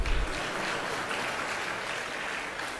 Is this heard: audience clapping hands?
yes